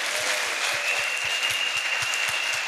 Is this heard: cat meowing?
no